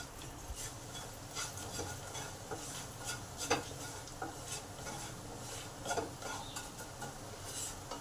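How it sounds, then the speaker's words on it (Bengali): Cumin seeds, broken chilies and a pinch of asafoetida fry in hot oil in a pan for a Bengali dish, giving a steady sizzle with scraping stirs and light clinks of a utensil against the pan. "এগুলোকে ভালো করে ভেজে নেব।"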